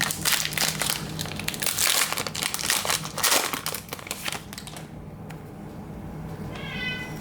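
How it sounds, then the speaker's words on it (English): A cat meows at a door, a short faint call near the end that follows a long stretch of loud crinkling and rustling of card wrappers close by. "Cat going crazy at my door, right on schedule."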